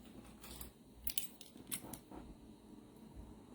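Scissors snip through cardstock while trimming a long paper leaf for a floral holiday card, several close, sharp cuts in an uneven rhythm with no talking.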